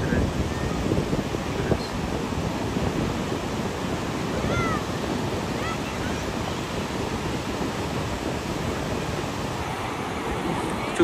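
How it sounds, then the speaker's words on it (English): Rough ocean surf at a beach in Corpus Christi, Texas, a constant broad roar of crashing waves mixed with wind buffeting the microphone, loud and unbroken, with faint voices in the background. "The waves are just too crazy today."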